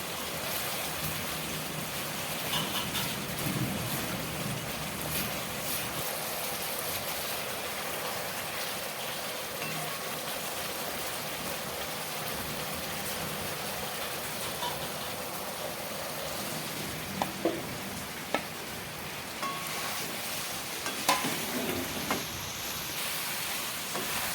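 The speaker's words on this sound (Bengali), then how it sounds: "মশলার সাথে আলু সয়াবিন 2 মিনিট মতো কষিয়ে নিয়েছি ভালো করে।" Potato and soybean chunks stir-fry in oily spice masala, a steady rain-like sizzle throughout, with a few sharp utensil clinks near the end.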